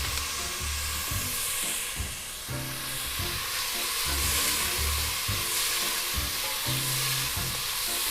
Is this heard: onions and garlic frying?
yes